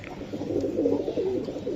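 Army and Jirawala breed pigeons at a pigeon sale give soft, rolling coos, several rising and falling murmurs close by and moderately quiet, with no talk over them.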